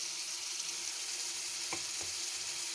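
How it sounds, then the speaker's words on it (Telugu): Chicken pieces and ginger-garlic paste fry in a pan with browned onions. A steady, dense sizzle fills the short stretch, broken by two soft knocks of a stirring spoon. "ఇప్పుడు ఈ బాగా ఉల్లిపాయలు వేగాక దాంట్లో వేసాను మా చికెన్ ముక్కలు"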